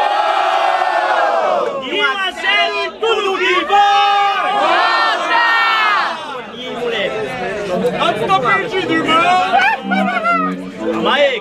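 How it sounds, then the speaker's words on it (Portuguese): Crowd at a Brazilian freestyle rap battle cheering, shouting and whooping loudly in a dense, sustained roar of many voices, close and continuous throughout. "Muito barulho quem gostou das rimas do Guinho."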